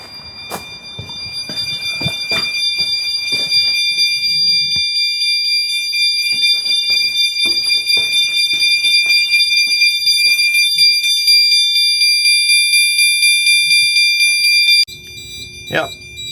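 A home fire alarm system sounds during a full annual test with a continuous, loud, high-pitched pulsing tone and rapid rhythmic strobing, then cuts off abruptly near the end, with clicks and a voice in the background.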